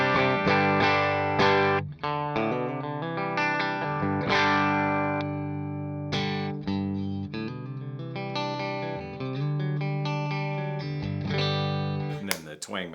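Electric guitar run through a pedalboard in stereo into a Morgan RCA 35 and a Victory V40 amp, playing a sustained, effects-laden melodic passage with chorus-like shimmer and slight drive, close and continuous, alone.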